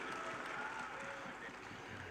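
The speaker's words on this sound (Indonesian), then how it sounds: "Kita beri tepuk tangan Pak Nurdin." Audience applause for a speaker at an Indonesian public gathering, a steady dense wash of clapping filling the room and continuing throughout, with a faint voice murmuring underneath.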